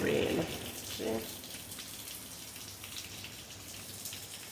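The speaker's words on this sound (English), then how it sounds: "It's raining like crazy out there." Heavy rain falls outside in Montego Bay, Jamaica, as a faint, steady broadband hiss, with a brief voice near the start.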